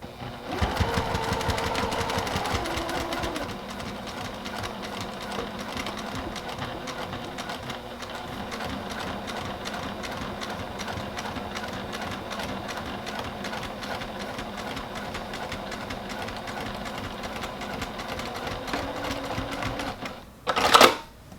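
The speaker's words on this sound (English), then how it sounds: "take it over the machine deck, and just stitch right across there to hold that strap in place." A sewing machine stitches across a bag strap, a steady, fairly loud mechanical whir that runs almost continuously for about twenty seconds, slowing briefly early on, then stops with a few handling clicks at the end.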